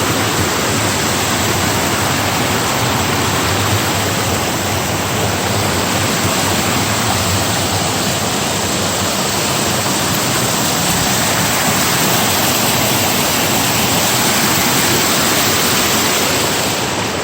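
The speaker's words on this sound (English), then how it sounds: "A little side tributary." Small side tributary stream in the Oregon Coast Range, flowing steadily as a dense, continuous rush of water that stays close and even throughout, with no voices.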